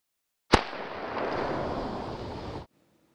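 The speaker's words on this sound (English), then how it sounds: "The two types of firecracker we use are the M150s and the Black Cats." A single M150 firecracker bursts on the ground with a sharp, loud crack, followed by about two seconds of crackling, hissing debris and rumble that stops abruptly, then near silence.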